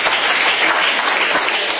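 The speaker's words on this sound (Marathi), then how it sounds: "जानूसाठी परत एकदा टाळ्या वाजवल्या" A classroom of primary school children applauds a girl for answering a quiz question correctly at a village school, giving a steady burst of dense clapping that lasts about two seconds with no talk over it.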